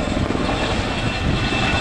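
An RAF Chinook twin-rotor helicopter flies a flat pedal turn at the RIAT 2009 air show, a loud, steady rotor and engine roar filling the short stretch without pauses.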